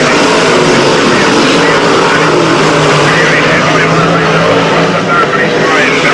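Sprintcars race at Archerfield Speedway during a 1996 national championship night, a loud continuous engine roar with a rasping, droning note that stays up throughout, while an announcer talks over it.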